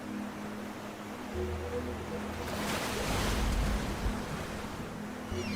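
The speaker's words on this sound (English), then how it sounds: "Listen to the ocean." Pacific ocean surf rolls in with a broad rushing wash that swells and fades, backed by steady low wind noise and a faint tonal hum.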